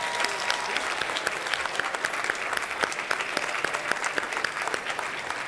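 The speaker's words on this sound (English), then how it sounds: "One more round of applause for all the nominees as well." Dense audience applause fills an awards ceremony hall, a steady wash of many hands clapping with sharp individual claps, sustained and loud throughout with no speech over it.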